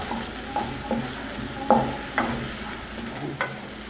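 Turmeric, chili and coriander powder sautéed in a pan for kadai paneer, with a low continuous sizzle and several soft utensil scrapes and taps, close and without speech.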